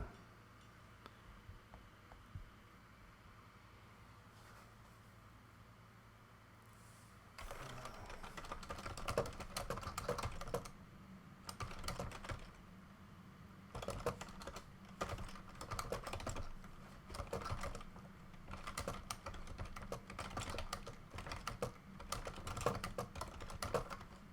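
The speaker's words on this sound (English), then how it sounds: "I can't type and talk at the same time" Close computer keyboard typing during a King of Avalon game session, rapid uneven clusters of key clicks starting after a quiet stretch and continuing in bursts, with no talking.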